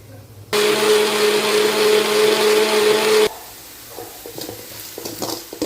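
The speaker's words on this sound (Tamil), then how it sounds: "இப்போ தக்காளி அரைச்சிட்டு வந்துடுவேன்" A mixer grinder blends tomatoes for a chicken kulambu, a loud steady motor whine lasting almost three seconds. It then stops abruptly and is followed by quieter clattering of the jar and lid.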